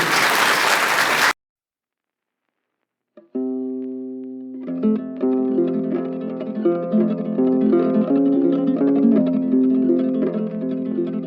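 An audience applauds Ünsal Servis, a Bolu car service that won first place among 400 dealers. The applause is brief and full, then cuts to silence, and instrumental music begins and builds.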